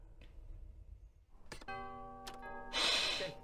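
A doorbell in the Lego Star Wars video game gives a clear two-tone ding-dong chime that rings on for a moment, followed by a soft whooshing swell. Quiet game ambience comes before it, and no one speaks.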